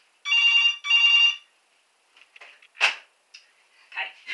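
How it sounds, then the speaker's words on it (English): A telephone bell rings loudly in two long bursts, then stops, followed by brief scattered knocks and rustles of someone handling things nearby. "I can't stand the phone ringing."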